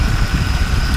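A 2010 Mercedes E350 engine idling after a repair, a loud, close, steady low rumble with a faint even pulsing and no speech over it.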